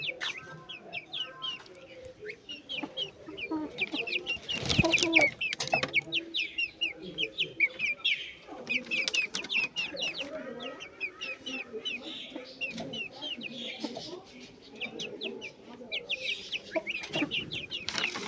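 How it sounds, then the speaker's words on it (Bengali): Chickens and ducks cluck and chatter in a village yard in the early morning, with many quick overlapping calls from several birds, some close and some farther off, and a few louder bursts among them. "হাঁস মুরগিগুলো দেখেন।"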